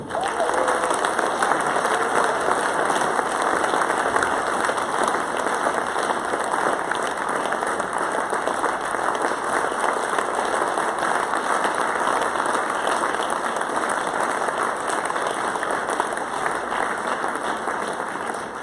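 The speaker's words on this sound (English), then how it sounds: "a warm round of applause to the new PTG President, Mr. Mark Poland" A convention crowd at opening ceremonies gives a long, warm round of applause, steady dense clapping with faint cheering, over a constant electronic hum, lasting nearly twenty seconds.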